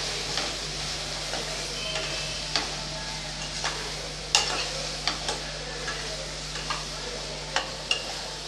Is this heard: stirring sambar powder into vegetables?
yes